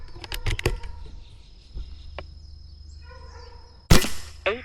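An Air Venturi Microstrike air pistol shoots, giving a few sharp snapping cracks close together at the start, a lone shot near the middle and a louder pair of cracks near the end, all near and dry with no talk.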